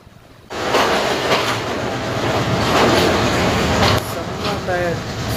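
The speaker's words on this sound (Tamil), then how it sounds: "இப்போ நான் 7 o'clock ட்ரெயின் ஏறி இருக்கோம்" Steady rumble of a train in motion on the way to Ella, Sri Lanka, loud and continuous, with a sudden rise in noise early on and faint voices beneath.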